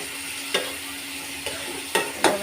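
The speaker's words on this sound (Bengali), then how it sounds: "আমি এখন শুটকিটা ভেজে নিব" Dried fish, shutki, fries in a pan with garlic and cumin, a steady hiss of oil broken by several sharp scrapes and stirs of a spatula, close and alone without talk.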